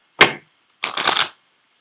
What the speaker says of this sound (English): So I am going to pull a card from the Ascended Masters deck for you as well.